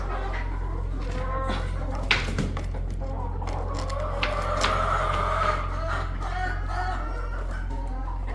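Chickens in a village cluck and squawk intermittently at close range over a steady low hum, with occasional sharper calls standing out.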